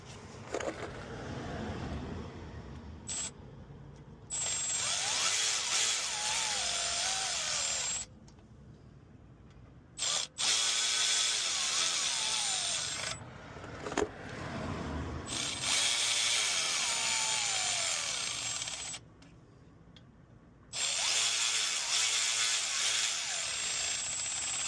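A power tool, likely an impact driver or drill, whirs in repeated bursts while snugging bolts on a Corvette C8 during an oil change, with short pauses and ratcheting between the runs.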